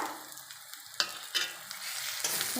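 Soybean curry with garlic and ginger paste fries in a pan, a continuous close sizzle broken by three sharp spatula scrapes and stirs.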